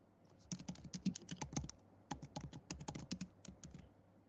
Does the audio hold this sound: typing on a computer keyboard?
yes